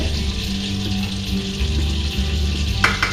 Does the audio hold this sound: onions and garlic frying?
yes